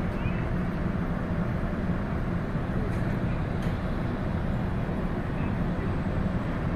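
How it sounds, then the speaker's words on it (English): A cargo ship from Montreal moving through the Sault Locks in Michigan gives off a continuous low engine roar with propeller churn, steady and moderately loud, with no talk over it. "You can hear all the roar of the engine. You can hear the turning of the rudder and the propeller."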